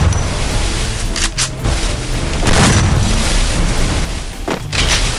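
A wooden shotgun in a video game fires loud, punchy blasts close up, with several sharp booms spaced unevenly over a dense background of game noise.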